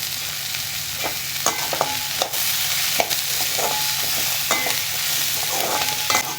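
Coconut and curry leaves sizzle in a hot pan while being stirred, with repeated scraping clicks of a spoon against metal over a steady frying hiss.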